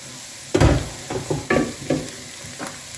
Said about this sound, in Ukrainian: Перемішуємо і тушимо капусту